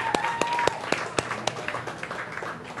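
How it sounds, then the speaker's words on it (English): Scattered clapping from a small group at a dinner event, a handful of distinct sharp claps spaced out unevenly and fading toward the end, with a faint tone and room noise underneath. "So let's give a round of applause for us for doing this the way that it should be done."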